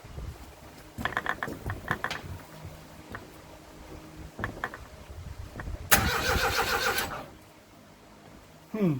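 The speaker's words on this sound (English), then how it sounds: "there's no exhaust on it, so this is going to be a bit noisy." A 1989 Austin Mini engine with no exhaust fitted cranks in short bursts, then catches into a loud, raw roar for about a second before dying, with faint background noises in between.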